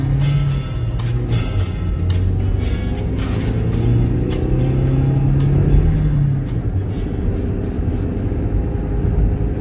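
A Toyota Yaris engine hums steadily from inside the cabin, with road rumble and a low drone that rises and falls slightly as it drives.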